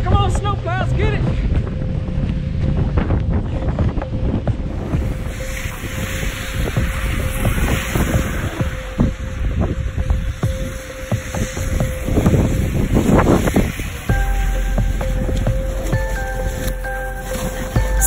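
Strong wind during a cyclone storm in Denver roars and buffets the microphone continuously, gusting loud and rough with a voice speaking now and then.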